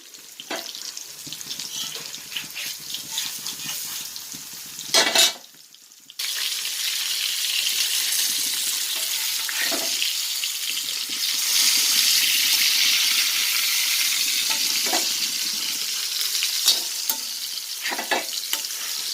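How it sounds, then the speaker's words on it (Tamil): Seer fish roasting in coconut oil in a pan gives off a steady hissing sizzle, with a few sharper spatters and a brief scraping stir partway through. "தேங்காய் எண்ணெயில் செஞ்சிட்ருக்கேன் சீலா மீன் ரோஸ்ட்டு"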